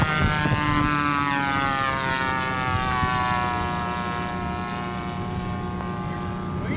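A scale model propeller aircraft comes in to land, its engine a loud, steady droning whine with strong harmonic tone that gradually eases, heard close throughout.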